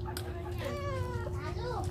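A cat gives a drawn-out, wavering meow, close and fairly clear, over a low background hum.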